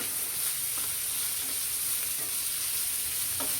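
Chopped capsicum, carrot, onion and curry leaves sizzling steadily in a hot pan for a leftover rice pulao, with faint spoon taps and scrapes from stirring under the hiss.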